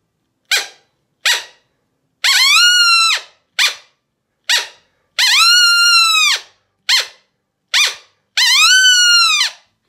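Coyote barks blown on a predator mouth call: sharp short yips alternating with longer rising-falling howl-like slides, repeated in a steady pattern, loud and close with no talk.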